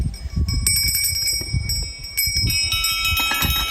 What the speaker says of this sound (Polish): w środku w owocarce są przeróżne dzwonki